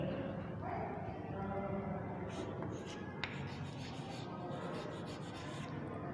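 Chalk or marker scratching across a board during a school science lecture on neurons, a steady rubbing stroke over a constant background hum in a classroom, moderately close with no clear talk over it.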